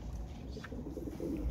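Golden-necked pigeons coo softly in a loft, with low murmuring calls close by over a quiet background and no talking.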